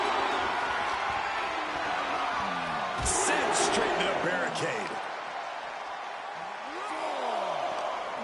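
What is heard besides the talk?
arena crowd cheering in a wrestling video game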